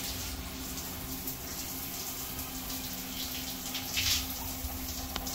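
Hot water runs steadily from a touch shower, a soft continuous hiss and splash close by with a brief louder gush near the end.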